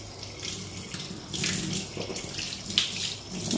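Water splashes steadily over a small Gopal idol, a continuous close running pour with brief surges, no voices.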